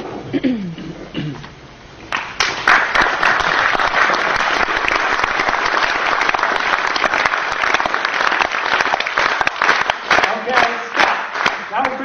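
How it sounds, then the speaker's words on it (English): An audience at a book talk claps together in a fast, steady rhythm, loud and sustained for about ten seconds after a quieter start, with crowd voices mixed in. "And every group claps at a different rhythm."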